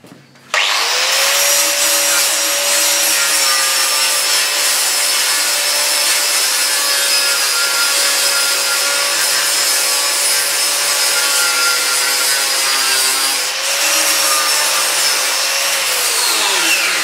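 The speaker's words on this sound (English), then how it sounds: "I'm using a flat disc as opposed to a grinder because it's not quite as aggressive." A flat abrasive disc grinds weld seams on metal parts of an Ami Continental jukebox, a loud steady whine with a harsh rasp that runs almost nonstop, briefly easing and restarting near the end.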